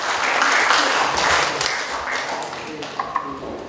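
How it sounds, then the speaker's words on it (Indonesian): Applause for a presenter at an Indonesian academic session, a broad, fairly loud patter of many hands that thins out toward the end, with a few isolated claps left. "Tepuk tangan untuk Jessica"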